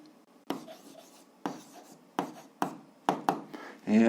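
A pen writes an algebra answer by hand on paper, making a series of short scratchy strokes in irregular bursts, close and fairly quiet.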